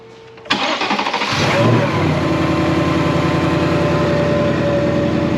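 A 2024 Ford Mustang Dark Horse with a Whipple supercharger starts up: a sharp crank and catch, then the engine settles into a loud, steady idle close by, with a faint supercharger whine.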